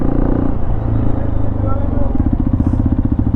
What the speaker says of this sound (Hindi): अब यहाँ चढ़ा करके देखते हैं, बाइक को आराम से चढ़ती है।